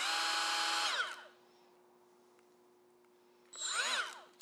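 A Milwaukee M12 FUEL right angle die grinder on a half-charged 3.0 battery whines loudly at high speed for about a second, spins down, then revs up again in a second close burst.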